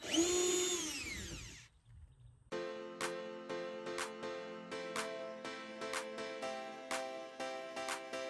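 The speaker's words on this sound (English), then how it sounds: "Let's take our nut head screws out." A power drill whines as it winds up and spins down while backing nut head screws out of a vintage camper, followed by a steady run of rhythmic clicking ratchet-like pulses, close and clear.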